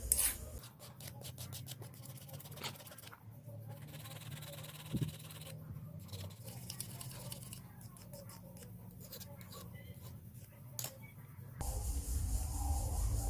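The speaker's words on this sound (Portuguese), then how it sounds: "uma lima como essa aqui, né? Dou uma acertada aqui nas bordas" A metal hand file rasps along the edges of a small workpiece for a homemade thread-unlocking tool, quiet repeated scraping strokes up close with brief pauses between them.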